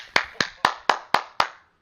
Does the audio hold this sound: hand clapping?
yes